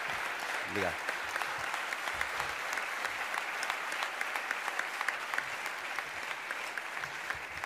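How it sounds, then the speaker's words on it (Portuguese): An audience applauds municipal staff at a national theatre competition closing ceremony in Póvoa de Lanhoso, producing steady sustained clapping throughout, with a brief spoken word of thanks near the start. "uma salva de palmas para eles também"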